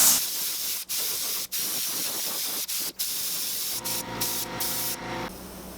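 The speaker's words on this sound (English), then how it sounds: "I'm gonna spray a tan on this." Tan paint sprayed from an aerosol can onto a handmade wooden darter fishing lure, a close steady hiss in several long bursts with short pauses between them.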